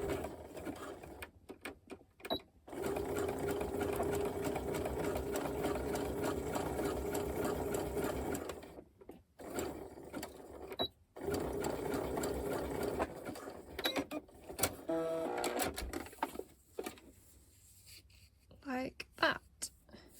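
Sewing machine stitching a folded bralette shoulder strap in long steady runs with short pauses between, someone talking over and between the stitching bursts.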